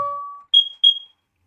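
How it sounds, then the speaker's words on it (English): Smoke alarm going off in the video game The Fabled Woods: a steady tone, then two short, sharp, high beeps in quick succession, loud and alone with no voices. "That's the smoke alarm going off."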